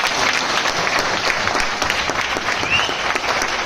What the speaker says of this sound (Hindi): एक बार चाहूंगा जोरदार ताली मार दीजिए